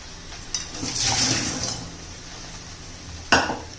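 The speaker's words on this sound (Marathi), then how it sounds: "तर यातलं पाणी काढून टाकते" Wash water splashes and gurgles as it is poured off mangoes, with a brief clatter of a container, then quiet, and a sharp splash near the end.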